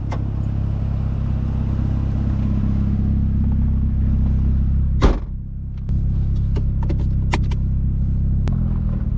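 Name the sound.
turbo straight-pipe Mazda Miata NB engine accelerating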